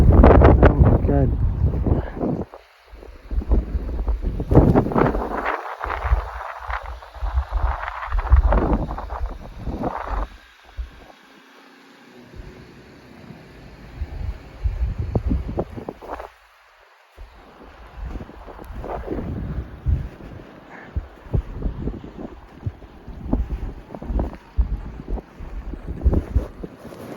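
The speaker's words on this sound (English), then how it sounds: "I'm facing with the wind. So I'm having a hard time walking." Strong wind roars and gusts in a snowstorm in Canada, buffeting the microphone in loud, uneven surges that rise and fall, with brief voices breaking through now and then.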